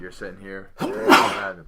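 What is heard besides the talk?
sneeze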